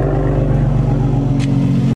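A 2020 Toyota Supra with a muffler delete and X-pipe idles close by, a steady, deep, loud exhaust drone with a firm low rumble that cuts out abruptly just before the end.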